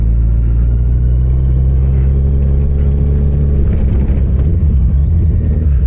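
A Yamaha FJR 1300 motorcycle climbs Hardknott Pass, a steep, rocky mountain road in the Lake District. Its engine gives a loud, close, steady low drone and rumble that swells slightly without a break.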